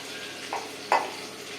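Curry leaves and onion sauté in a pan with a soft, continuous sizzle, broken by two brief louder spits or stirs, the second the sharper, heard alone at a low level.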